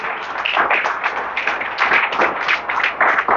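A church congregation applauds loudly during a worship service, a dense, steady run of many hands clapping together, close and bright, with no talk over it.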